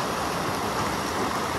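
Water pouring from a spring-fed spout at a picnic spot, a steady, close rushing splash with no breaks.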